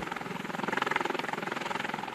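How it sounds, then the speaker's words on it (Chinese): A Z-20 helicopter lifts an all-terrain vehicle slung beneath it, its rotor beating in a steady, fast thumping pulse at moderate distance with no other sounds. "飞行员操纵直升机缓缓将全地形车吊起，确定状态良好后增速升空"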